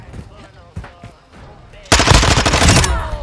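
Suppressed Vaznev-9K bursts of rapid automatic fire in Modern Warfare II, loud and dense for the last second and a half after a few scattered earlier shots and game noises.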